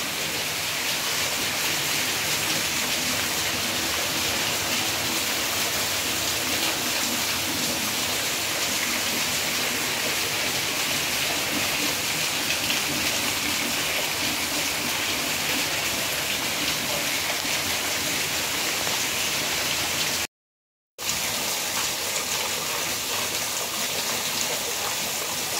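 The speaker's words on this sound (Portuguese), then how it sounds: "E agora veio com força." Heavy rain pouring down in Acopiara, Ceará, a loud dense continuous hiss of falling water that stays constant throughout, briefly cut out once near the end.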